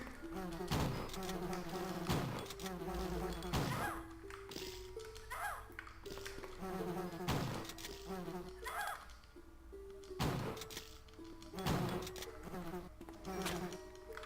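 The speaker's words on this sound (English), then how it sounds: "There's also bees here?" Bees buzzing in the video game Resident Evil: Deadly Silence, a steady insect drone running throughout alongside repeated sharp game taps and pings, moderately quiet and without talk.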